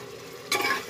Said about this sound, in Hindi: हम इसको अच्छी तरह भून लेंगे।